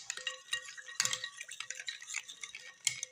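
Spoon stirring jaggery sharbat in a glass or vessel, a run of light clinks and scrapes repeating through the clip with brighter taps near the start, middle and end, close and fairly quiet with no talk.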